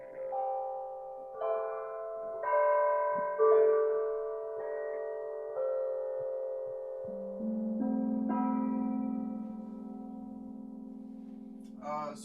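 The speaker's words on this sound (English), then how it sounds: "and now we have some small chow gongs." Small Chinese chow gongs are struck one after another, each a clear shimmering metallic tone that rings out and overlaps the next, with a lower gong sounding near the end; no talking.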